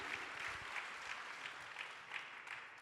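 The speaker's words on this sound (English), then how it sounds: "Give them a round of applause." Steady applause from an audience at a panel event on climate adaptation, a dense wash of many hands clapping at moderate distance with small swells, continuing alone without talk.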